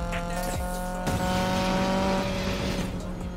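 Volvo Amazon in Need for Speed Payback accelerating hard with NOS: a loud, steady engine roar with rising harmonic tones and a whoosh at about one second, continuous throughout with no talk.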